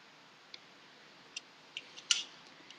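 Scissors trim the selvages and folded top edge from quilting fabric in a few faint, sharp snips spaced irregularly across an otherwise quiet room.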